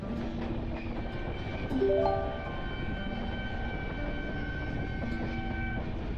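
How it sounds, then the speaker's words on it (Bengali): Passenger train pulling into Bardhaman junction, a steady rumble of rolling wagons with high squealing brake tones that rise mid-way and then settle into a sustained drone, no talk. "ট্রেন অলমোস্ট সঠিক টাইমেই বর্ধমান জাংশনে এসে উপস্থিত হয়েছিল।"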